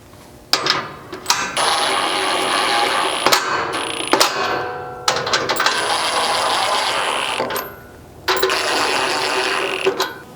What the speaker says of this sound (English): I'm gonna grab a 3/4 socket and we'll kind of run these up just to pull this closer to the frame.